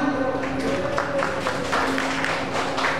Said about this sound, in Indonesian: teman-teman yang Gen Z boleh tepuk tangan.